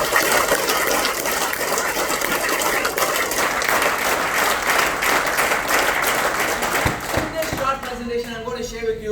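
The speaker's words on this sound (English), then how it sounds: "Can all of you give a thunderous applause for that?" An audience at a business networking meeting gives loud, sustained applause, a dense, hissing roar of clapping that fades near the end as a voice begins speaking.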